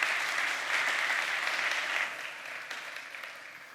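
An audience at a PyData Amsterdam tech conference applauds a presenter taking the stage, a thick, even burst of many hands that stays full for about two seconds, then gradually thins and fades.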